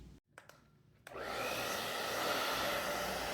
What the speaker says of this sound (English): A hairdryer speeds this process along.